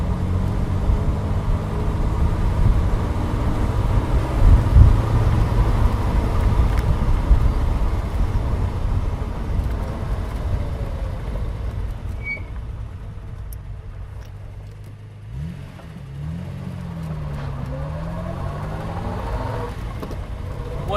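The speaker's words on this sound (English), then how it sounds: "this is a pucker E-Type with a Jaguar V12 engine" A Series 3 Jaguar E-Type with a V12 engine drives steadily with a loud, continuous engine drone and road rumble. The engine note dips and then rises again as the car changes speed.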